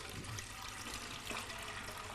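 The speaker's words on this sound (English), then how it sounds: "I'm going to release the bung from the barrel and leave out the buttermilk." Buttermilk drains out through the bung of a wooden butter churn barrel during traditional Irish farmhouse butter making, giving a faint, steady trickling and splashing pour with no voices.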